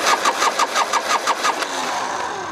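A rusty, wire-tied rat-style Harley-Davidson motorcycle cranks with a rapid rhythmic starter chug, then catches and settles into a rough, steady idle, heard up close.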